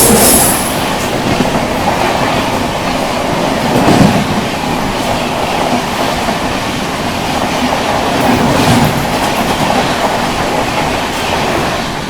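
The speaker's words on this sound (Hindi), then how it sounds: "सामने से आ रही है आप लोगों की हैदराबाद डेक्कन नामपल्ली से चलकर नई दिल्ली की ओर जाने वाली तेलंगाना एक्सप्रेस।" Telangana Express, running from Hyderabad Deccan Nampally toward New Delhi, rushes past Ganj Basoda station with a loud, steady rumble and rhythmic clickety-clack of wagon wheels over rail joints, with faint wheel squeal.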